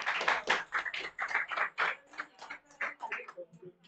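Students in a classroom clap their hands quickly in an uneven run of sharp claps, mixed with voices.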